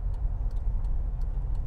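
A car's turn signal ticks steadily, about five evenly spaced clicks over a low engine idle, close by inside the vehicle, with no talking.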